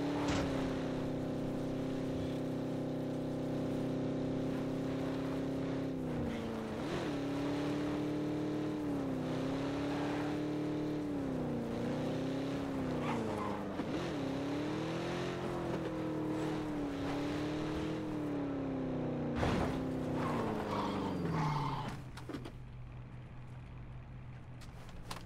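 Vehicle engine in PUBG, a sustained droning motor with wavering pitch as it accelerates and shifts, loud and close for about twenty seconds before dropping away.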